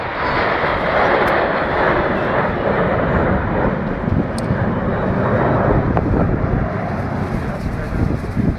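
Red Arrows jets flying the Concorde Bend formation at a Scotland airshow, a sustained, loud jet roar that stays steady throughout, with wind buffeting the microphone.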